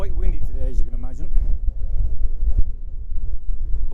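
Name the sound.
wind blowing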